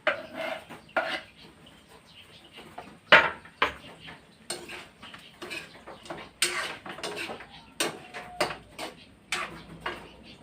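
Ginger goes into a pot of tinola, with scattered metallic clinks and scrapes of utensils against the pot, quiet and irregular, with a few sharper knocks.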